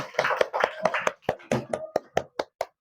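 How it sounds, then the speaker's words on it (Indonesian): A classroom group claps for a student team, about a dozen sharp, separate claps in an uneven rhythm that thins out and stops after under three seconds, close and fairly loud with no talk over it. "Tepuk tangan untuk kelompok 3."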